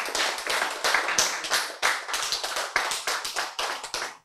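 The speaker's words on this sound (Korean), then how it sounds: "저 뒤에서 박수 제일 먼저 쳤어" An audience at a health lecture claps steadily and loudly, with dense, fast overlapping handclaps that hold for several seconds before ending abruptly.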